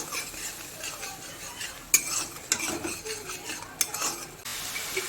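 A spice paste with chili powder and a little water is stir-fried in a pan, with soft frying hiss under repeated scraping and clinks of a spoon against the metal, close and moderately quiet.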